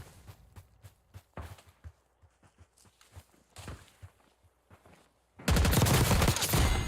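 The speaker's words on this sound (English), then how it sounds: "I'm getting sniped at by 2 people right now" Sharp sniper rifle shots and scattered gunfire crack at a distance in a Call of Duty: Warzone match, a sparse run of separate reports that gives way to a sudden loud, dense burst near the end.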